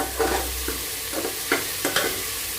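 Vegetables sautéing in a pan for a Karnataka-style vegetable bath, a soft steady sizzle with a few spoon scrapes and stirs against the pan, close and moderately loud, no voices.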